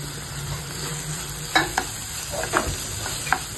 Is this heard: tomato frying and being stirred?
yes